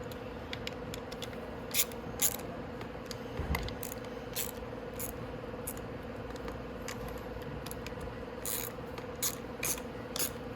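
Intermittent ratchet clicks while crank bolts are tightened on a Venom X22GT 250cc automatic motorcycle, in short quiet bursts over a steady low hum.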